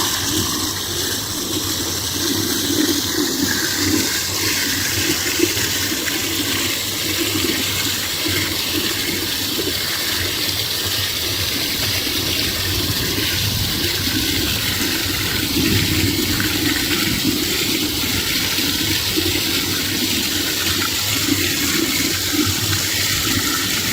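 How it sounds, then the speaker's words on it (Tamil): Water pouring steadily over Mekkarai Adavinainar Dam at the foot of the Western Ghats, a loud, continuous broadband rush with no break and no voices. "எவ்வளவு அழகா தண்ணி விழுது பாரு."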